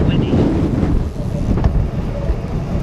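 Strong winter wind buffeting a cyclist's microphone while riding on a chilly sleet-and-rain commute, a steady loud low roar with gusty swells throughout.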